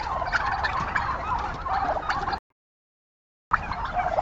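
Loud, rapid gobbling from several turkeys together, broken by a sudden second of silence before the gobbling resumes.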